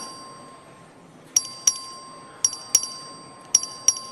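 A voting bell in the Texas House of Representatives chamber gives six sharp, ringing strikes in irregular pairs, each with a brief metallic decay over a quiet room with a faint steady tone beneath.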